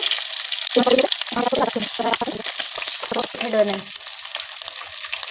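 Pangas fish pieces sizzle and crackle loudly in hot oil, a steady frying hiss with bursts of spitting and stirring scrapes throughout.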